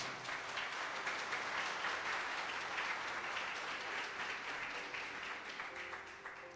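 A large crowd applauds continuously, dense clapping that stays loud and even throughout before easing slightly near the end.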